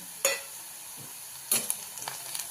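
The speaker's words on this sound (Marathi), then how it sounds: "चांगलं हे मिश्रण आपण परतून घेऊया" A spoon stirs a spice mixture of chilli, turmeric, garam masala and coriander powder in a pan for brinjal bharit, with two short scraping bursts and a few soft clicks over a faint, quiet sizzle.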